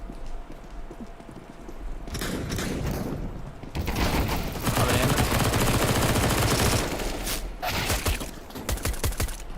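Gunfire in a video game shooter, with bursts of rapid automatic shots and heavy clattering rising after a quieter opening, loud and dense with a few brief gaps.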